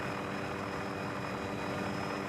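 Steady, dense rotor and engine roar from a helicopter hovering to set a repairman down beside a high-voltage pylon. The noise is continuous and unbroken throughout, with no voices.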